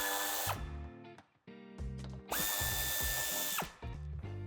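A power tool whirs in several short, loud bursts with brief pauses between them while removing screws from the lower bumper of a 2020 Audi A4 sedan, recorded close up in a quiet workshop.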